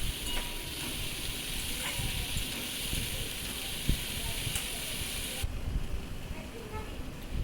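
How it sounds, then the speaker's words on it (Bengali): Cut potato and eggplant frying in a kadai, with a soft continuous sizzle and scattered scraping stirs, fairly quiet and steady, the hiss dropping slightly toward the end. "আলু বেগুন কেটে রেখেছিলাম সেটা আমি কড়াইতে দিয়ে কষে নিচ্ছি"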